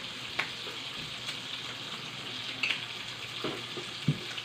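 Chicken nuggets frying in a pan, a close, steady crackling sizzle with occasional clicks and scrapes of a utensil, no one speaking.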